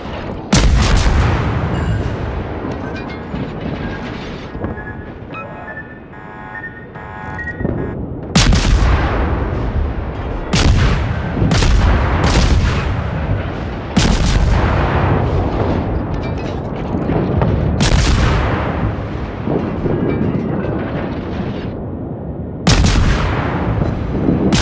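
Naval gunfire in a video game: a series of heavy, loud booming cannon blasts at irregular intervals, each followed by a rumbling decay, with no talking.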